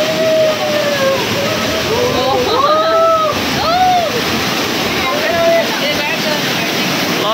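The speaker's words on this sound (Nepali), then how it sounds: "ल यस्तो फल्स पनि रहेछ यहाँ" A cave waterfall at the Garden of Caves in Cherrapunjee, Meghalaya, roars in a steady, loud, close wash of falling water, with a voice briefly speaking over it.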